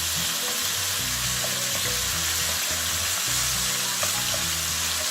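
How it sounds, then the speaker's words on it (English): Yogurt-marinated chicken tikka pieces frying in a pot, a loud, steady sizzle with occasional scraping stirs and spits, continuous and close with no talking. "It's going to sizzle because there's moisture from the yogurt."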